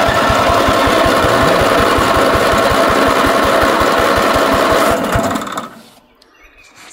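An old garden tractor engine runs with a loud, close, steady rapid chugging for about five seconds before cutting out and fading into near silence.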